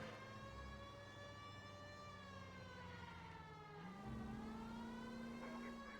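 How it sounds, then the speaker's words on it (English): Wailing sirens from vehicles in the 1940s-set video game LA Noire, a steady rising and falling tone with layered harmonics that shifts in pitch partway through, sounding alone at moderate loudness. "Do you hear the sirens, my guy?"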